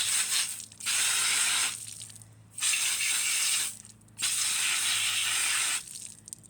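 Three long bursts of hissing spray are aimed near a knocked-down nest, each lasting about a second or more with short pauses between, loud and close over a low background hum.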